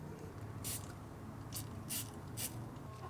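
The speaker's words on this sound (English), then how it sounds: "Spray some water-based silicone." Four short hissing bursts of water-based silicone spray aimed at a BMW F30 charge pipe during installation, with brief gaps between them over a low steady hum.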